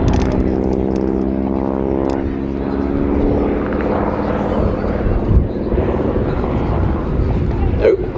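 A propeller warbird flies a slow speed pass at an airshow, its steady droning engine tone holding throughout, loud and fairly close, with a commentator's voice talking over it and crowd ambience.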